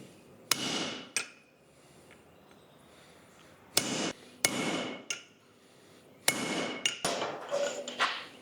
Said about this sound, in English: We're going to center punch this